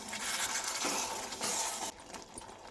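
A spoon scrapes and stirs a tomato and pea curry with spices in a pan, producing a soft, steady scraping and sizzling texture that drops away near the end.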